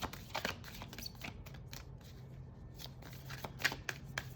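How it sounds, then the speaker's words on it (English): Tarot cards are shuffled by hand in a quiet room, a run of soft, close riffling and slapping bursts in uneven rhythm with no talking. "I'm going to sit here and I'm going to keep shuffling until the message reveals itself"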